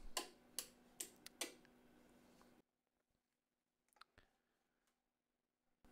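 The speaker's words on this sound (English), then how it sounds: "I added this metronome to my ukulele, and now it's very cool." A metronome fitted to a ukulele ticks a few times in a quick, steady rhythm, faint and close, before falling quiet with only a couple of soft clicks afterward.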